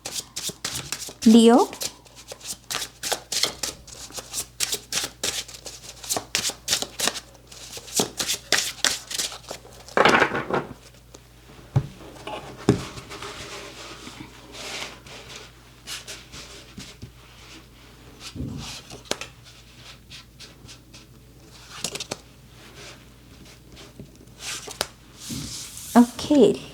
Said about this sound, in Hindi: कार्ड्स को शफल करेंगे